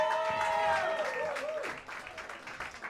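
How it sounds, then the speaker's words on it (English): An audience applauds the Mesa College Jazz Ensemble, steady clapping at moderate level with lingering tonal sound early on, tapering slightly toward the end. "One more round of applause for the Mesa College Jazz Ensemble"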